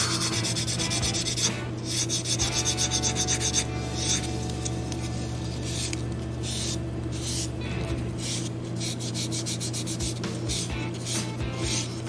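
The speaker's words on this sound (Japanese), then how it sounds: "ちょっと厚めのスポンジヤスリを使って 表面を整えていきましょう。" Steady rasping rubs of a thick sponge sanding file across plastic parts of a VOLKS 1/100 IMS Knight of Gold model kit, smoothing surfaces and gate marks, in continuous close strokes with faint background hum.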